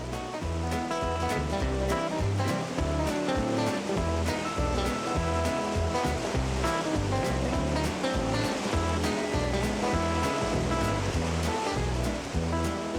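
The Athabasca River rushes below Athabasca Falls, a loud unbroken roar of turbulent whitewater that holds steady throughout.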